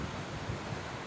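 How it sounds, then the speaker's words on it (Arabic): Mediterranean surf breaks on a shore in cold, windy weather, a steady faint wash of waves mixed with wind rumble, no voices. "وكما نرى الأمواج على شاطئ البحر الأبيض المتوسط"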